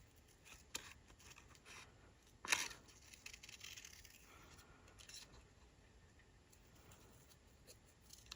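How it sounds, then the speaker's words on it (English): Scissors snipping through paper for a Halloween card, sparse quiet cuts and rustles with one sharper louder snip near the middle, close and alone. "you're turning paper as you cut, not the scissors"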